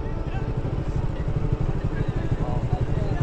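A 155cc motorcycle engine runs with a steady low rumbling drone that stays even throughout, close by, while a voice talks over it.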